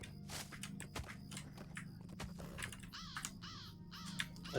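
Crows caw repeatedly in Lord of the Rings Online, harsh calls layered over a busy game soundscape with rhythmic thumps and footstep-like clatter, the caws loudest toward the end.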